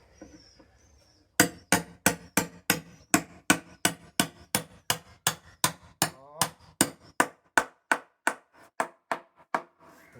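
A hammer strikes while a bench is being built, about twenty-five sharp, evenly spaced blows in a steady rhythm, loud and close, after a quiet start.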